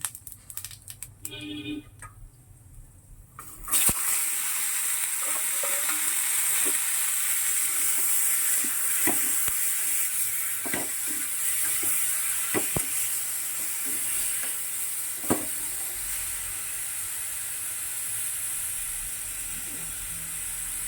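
Panch phoron spices crackle and sizzle in hot oil in a home kitchen pan. After a few quiet seconds with faint clicks, a steady, loud, close sizzle starts and runs to the end, with occasional pops and no talking.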